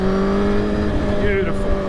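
A 100,000-mile Suzuki GSX-R1000 motorcycle engine drones loud and steady with a smooth harmonic hum while riding rough trail terrain, with a brief pitch wobble near the end.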